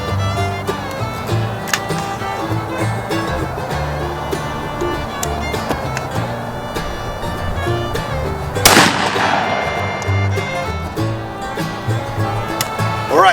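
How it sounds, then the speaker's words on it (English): A 12 gauge shotgun fires a 3 1/2 inch turkey load at a target 60 yards away, one loud, sharp blast partway through, set against outdoor background noise and movement. "one more shot at 60 yards"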